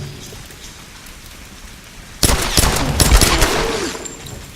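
Gunfire aimed at an enemy in the video game Tomb Raider: a sudden loud burst of shots cuts in over quiet ambience and carries on as a dense crackling volley for a couple of seconds.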